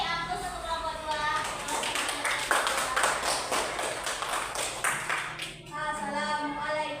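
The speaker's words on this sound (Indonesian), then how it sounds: "Kita beri aplaus untuk kelompok 2." Classroom applause for a student group, a dense run of many hands clapping for several seconds with a voice and chatter mixed in, then tapering off.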